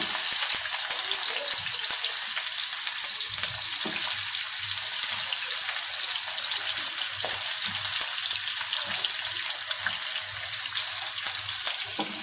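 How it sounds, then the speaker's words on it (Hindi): Onions sizzling steadily in a cup of hot oil for an eggplant and taro dish, a dense continuous frying hiss with occasional stirring clinks and no voices. "तेल हमारा गर्म हो चुका है। अब हम इसमें प्याज डाल देते हैं।"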